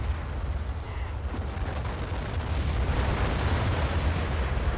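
A US battleship offshore shells the coast in a Cold War 1975 strategy game mod: a continuous heavy rumble of distant overlapping explosions that swells slightly toward the end, with no speech.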